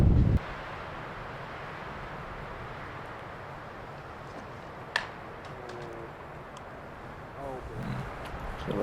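Steady broadband wind roar buffeting the microphone on an outdoor disc golf course during a state championship round, a continuous rushing bed with a brief thump near the middle and faint distant voices toward the end.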